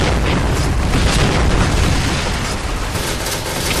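A grenade blast in a video game fills the clip with a loud, dense, sustained rumble of broadband noise that holds steady for a few seconds without pausing.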